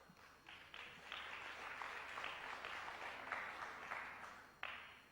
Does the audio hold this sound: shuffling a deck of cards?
no